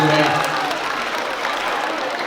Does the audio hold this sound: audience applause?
yes